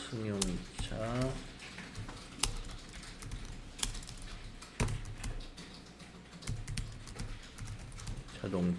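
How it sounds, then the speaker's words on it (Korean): Someone types at a computer keyboard during an accounting software lesson, with steady clicking keystrokes and occasional harder key presses heard beneath a person talking. "여기다가 타자를 해줘야 돼요"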